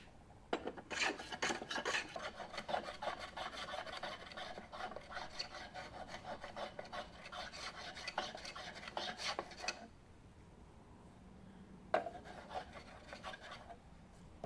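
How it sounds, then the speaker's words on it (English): Rhythmic rasping strokes of a rasp shaping a cove in walnut, fairly quiet, steady back-and-forth for several seconds, then a pause and a short final burst. "it does a great job of shaping that little cove in there"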